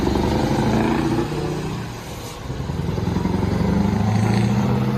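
A Scania truck's V8 engine revs hard and close, a loud rumbling roar that dips briefly in the middle before building again.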